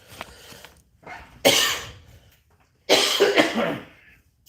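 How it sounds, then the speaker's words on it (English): A man gives two harsh, close coughs about a second and a half apart, with a softer throat sound in between. "I'm trying to fight this cough."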